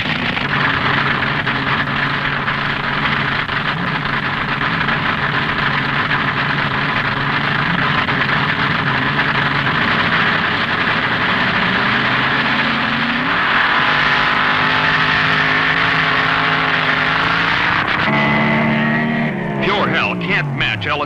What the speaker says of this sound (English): Leaving first on the handicap start will be the gas-burning roadster of Ron Ellis from Michigan.